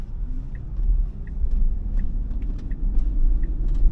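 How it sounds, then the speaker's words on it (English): A Tesla on Full Self Driving Beta v12.3 accelerating on a road, a steady low rumble of road and motor noise that swells slightly, with faint periodic ticks over it. "So I'm going to hit the accelerator."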